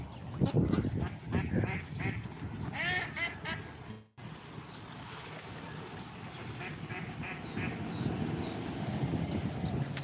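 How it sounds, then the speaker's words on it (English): Several ducks on a pond quack repeatedly nearby, overlapping calls over a constant low rumble of distant traffic outdoors. "You got all the ducks having little baths and little swims."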